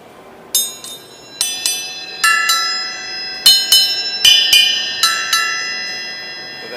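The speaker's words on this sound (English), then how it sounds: "These little bell cymbals." Small handmade Turkish bell cymbals struck one at a time, about ten bright ringing hits with shimmering, overlapping decays, fairly close and clear over a quiet background.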